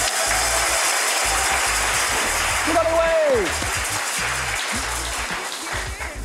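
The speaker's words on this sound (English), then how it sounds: "Let's hear it from all of your fans in our virtual cheering section." Steady applause and cheering from a virtual audience at a 2020 Best Places to Work business awards ceremony, filling the whole stretch at a constant loud level with a brief whistle-like tone partway through.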